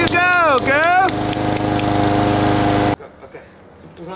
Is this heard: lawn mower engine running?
yes